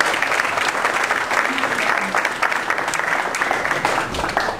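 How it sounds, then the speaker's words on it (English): An audience at a marketing lunch meetup applauds for a speaker: dense, steady clapping from many hands, sustained and fairly loud throughout, with no clear speech over it. "A round of applause for Linda."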